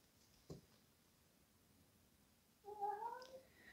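Single cat meowing near the end, a drawn-out moderately loud mew after a long quiet stretch broken only by one faint tap.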